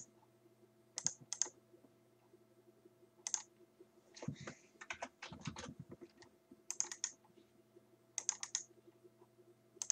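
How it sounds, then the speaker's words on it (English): Someone types on a computer keyboard up close, with quiet sporadic key clicks and a dense rapid burst of typing in the middle over a low steady hum. "I'll type it out actually."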